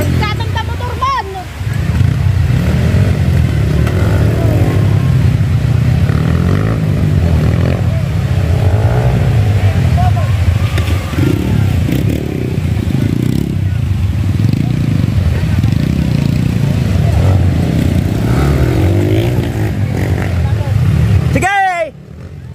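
A motorcycle engine running loud and close for about twenty seconds, a steady rough roar with shifting revs, under shouting voices, cutting off near the end.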